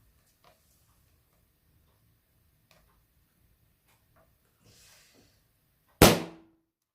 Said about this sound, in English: it just burst with quite extreme force that was exerted by it, which blew the candle flame out